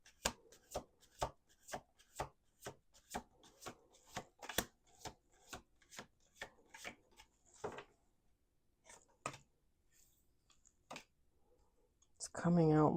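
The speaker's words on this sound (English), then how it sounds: "Last shuffle." Tarot cards being shuffled in a steady run of sharp riffling slaps, close and quiet, then a few scattered taps before a voice starts speaking.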